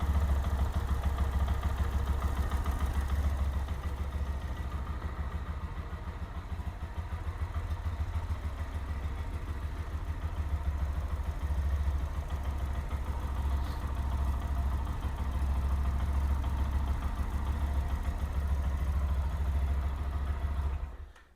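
A Lifan KPM 200 motorcycle engine idles steadily for a long stretch after an oil change, a low, even chugging rumble that stays close and constant before cutting off at the end.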